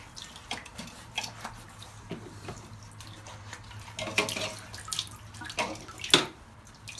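Water is scooped and wiped out of the bottom of a toilet base during a toilet repair, giving soft close splashes, drips and scraping clatter in irregular bursts.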